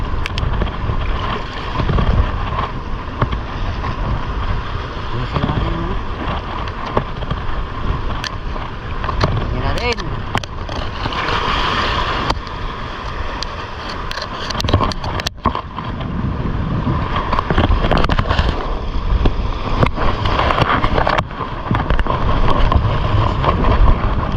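Strong wind buffets the microphone continuously on a boat while handline fishing at Calumbuyan, Calatagan, Batangas, a loud rumbling roar with gusts, mixed with water and boat noise.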